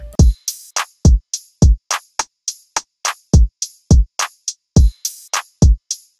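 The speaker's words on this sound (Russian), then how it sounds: "драмка звучит вот так." A punchy trap drum pattern, booming low kicks alternating with crisp snares and hats in a steady, looping rhythm, loud and dry.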